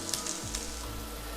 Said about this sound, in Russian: Отправляем жариться наш прекрасный лук.